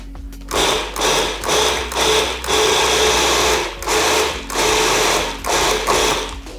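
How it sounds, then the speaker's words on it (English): A food processor chopping walnuts in short pulses, a loud close motor whir with rattling nuts starting and stopping about eight times in an uneven rhythm, with no talk over it. "Now I'm adding the walnuts back into the food processor."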